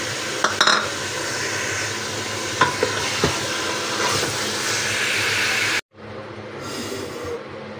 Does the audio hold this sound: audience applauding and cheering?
no